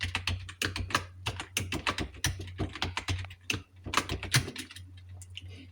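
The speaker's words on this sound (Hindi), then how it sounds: "इस तरह से आपका शिष्य शब्द टाइप हो जाएगा।" Fast, uneven bursts of key presses rattle on a computer keyboard as Hindi words are typed in the Krutidev layout, close and quiet with brief pauses between clusters; no speech.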